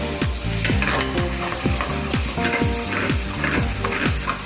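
Tortellini frying in brown butter with red onions, bacon and sage: constant loud sizzling and crackling under a steady rhythmic scraping of a utensil against the pan, close up.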